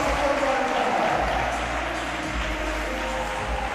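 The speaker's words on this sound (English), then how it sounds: "Big round of applause." Audience applause at a basketball shooting contest during a midnight madness event, steady and continuous clapping from a crowd in a gym, with talk mixed in.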